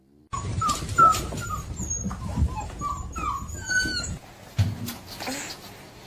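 Several puppies whimpering and yipping close by, with repeated high, thin cries overlapping throughout and some rustling underneath.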